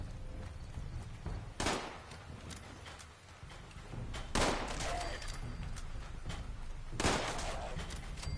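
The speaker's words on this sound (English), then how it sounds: "you shot him in the leg and you one tapped him" Gunshots in the Fallout 76 video game: three loud, sharp reports spaced several seconds apart over a steady background of game ambience and footsteps.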